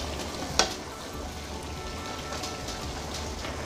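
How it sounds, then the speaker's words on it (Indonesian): Chicken, tofu and mustard greens are stirred in a sizzling pan, with a steady frying hiss throughout and one sharp clink of the utensil near the start. "Kemudian diaduk rata."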